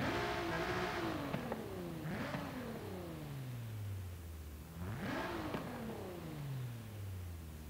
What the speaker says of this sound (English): exhaust engine sound from the car.